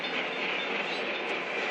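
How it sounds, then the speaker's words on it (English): Steady rushing rumble of a train passing at a distance, continuous and fairly faint with no talking. "So what is it with trains?"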